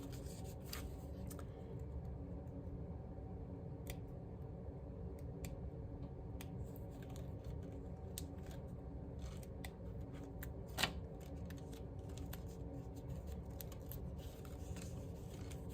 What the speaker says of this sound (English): I'm also using a very nice sharp scissors as well to help me with cutting